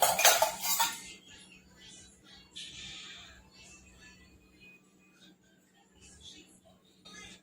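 Metal utensils clink and scrape against a pan while oiling and cutting freshly steamed dhokla, with a bright clattering burst at the start, then softer scattered taps and scrapes, and a low steady hum underneath.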